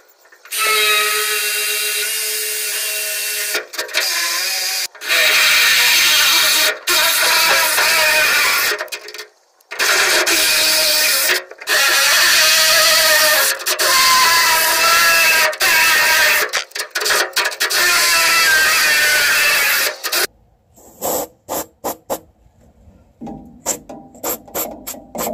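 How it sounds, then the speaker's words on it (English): A power drill bores holes into a steel dump trailer while mounting a 6,000 lb winch, loud grinding bursts of several seconds each with short pauses, ending in stuttering starts and stops. "Just have to drill three more."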